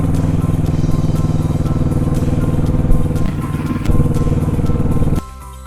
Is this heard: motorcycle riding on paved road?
yes